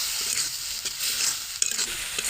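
Mutton pieces sizzle steadily in a pan while being stirred, with a continuous frying hiss broken by a few soft scraping strokes, close and fairly quiet.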